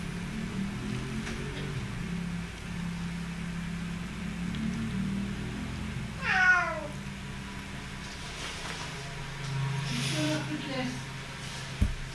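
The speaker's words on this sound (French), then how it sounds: "Ah, voilà mon chat." A domestic cat gives one clear meow midway through, near and fairly loud, with a fainter second meow later, over a steady background hum.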